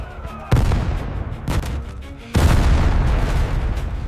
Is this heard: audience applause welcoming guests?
no